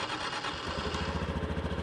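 Vehicle engine parked in an RV park cranks and catches, settling into a steady, rhythmic near idle with a pulsing low chug.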